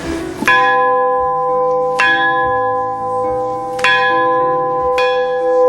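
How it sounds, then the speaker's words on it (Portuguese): A church bell at Casa de Santiago on a pilgrims' route is struck three separate times, each clang ringing out loud and close with long, sustained overtones that overlap as the strokes follow a steady, unhurried rhythm. "uma das tradições dos peregrinos é tocar o sino da glória por 3 vezes."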